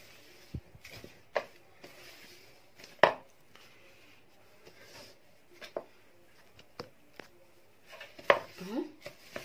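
Dry ingredients for a brioche dough being stirred together in a bowl, with scattered light clinks and scrapes of utensil against the bowl at an irregular pace, close and fairly quiet.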